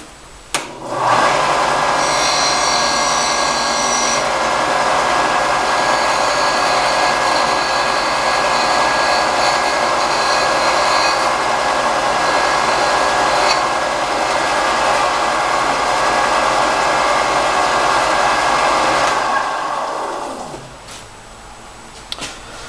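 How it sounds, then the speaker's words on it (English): A power sander runs continuously and loudly for about twenty seconds, smoothing colored rice tubes with a steady whirring hiss before spinning down near the end. "I'm going to go with my sander real quick and just clean this up."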